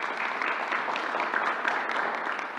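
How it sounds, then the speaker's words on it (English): Audience applause at a New York governor's news conference, a steady dense patter of clapping from a moderate-sized crowd indoors, even in loudness throughout with no voices on top. "let's give them a round of applause, please."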